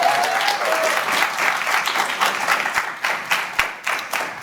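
An audience at a student election debate gives a dense, sustained round of applause, steady and fairly loud throughout, thinning slightly toward the end.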